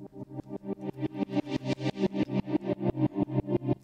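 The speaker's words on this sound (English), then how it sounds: "So now it's going quite fast to the left and right side of the stereo field and moving the sound." A distorted synth pattern pulses in rapid, evenly spaced swells while a sine-wave modulator auto-pan in Bitwig sweeps it quickly between left and right, rising and falling in loudness with each cycle.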